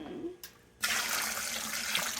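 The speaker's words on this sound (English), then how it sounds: "now we're going to pour the brine over the meat" Brine poured over beef roasts and pork loin in a food-grade bucket: a short splash, a brief pause, then a sustained loud rushing pour of liquid.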